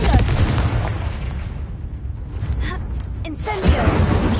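Confringo spell blasts from a Harry Potter video game: heavy booming explosions with a rumbling low tail, fading in the middle, then a fresh burst near the end, with voices mixed in.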